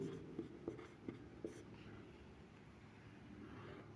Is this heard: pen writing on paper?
yes